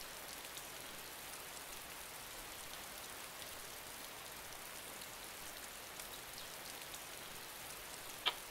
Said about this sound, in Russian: тут такой поливает дождина